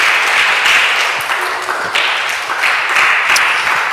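A church congregation applauds to praise the Lord during a morning prayer service, with loud, dense clapping that stays sustained throughout.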